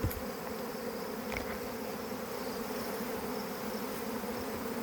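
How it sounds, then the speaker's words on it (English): A honeybee swarm pours out of a hive, making a dense, continuous buzz of many bees in the air close by, steady throughout and without talk. "So they're all over in the air right now. They're pouring out."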